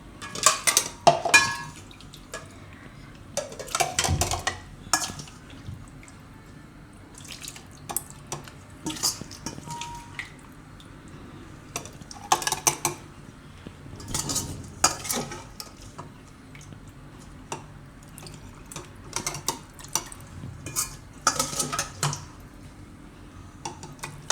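Cooled onion-tomato gravy for a Gujarati methi malai muthiya shaak being spooned into a mixer jar, with scattered clinks of a spoon against the jar, wet plops and scraping in short bursts, near and fairly quiet.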